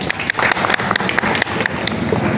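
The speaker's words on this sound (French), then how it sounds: "je vais vous demander une fois de plus d'applaudir" Audience applause at a Guinean music event, with dense, continuous clapping from a crowd that stays fairly loud and even throughout the short stretch.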